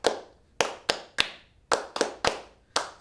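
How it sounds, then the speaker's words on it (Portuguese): Hand claps keeping time with a berimbau in a school physical education lesson, about nine close, crisp claps whose spacing tightens as the rhythm quickens, with no voices. "se o berimbau tá mais rápido, a gente acelera a palma"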